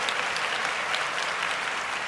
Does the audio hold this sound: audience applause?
yes